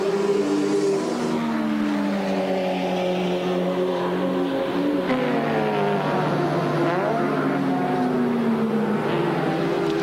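A touring car rejoins the 1992 Bathurst 1000 after a pit stop, its loud engine howling and climbing through the gears close by, with other race cars roaring in the background and a steady, dense mechanical din throughout.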